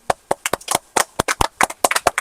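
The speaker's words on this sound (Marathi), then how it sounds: "आता आपण टाळ्या वाजवतोय" Sharp, close hand claps at a birthday party, about a dozen quick irregular claps from a few people, loud and dry with no voices.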